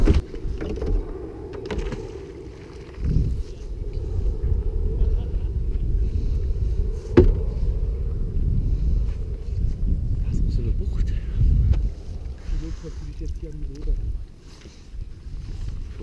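A small boat motors across water with a steady low engine drone and wind rush, while people talk in German over it throughout.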